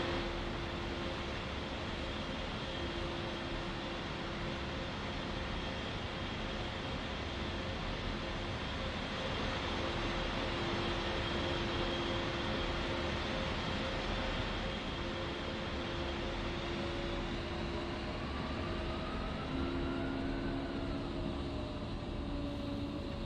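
A steady, even engine drone in a flight sim game while the aircraft taxis, a constant broadband roar with faint tonal whine holding level throughout, no voices.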